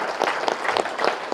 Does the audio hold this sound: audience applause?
yes